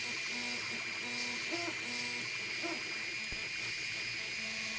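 A Creality CR-10 3D printer at work, its stepper motors whining in shifting tones with a steady hiss of fans beneath, fairly quiet and close with no talking.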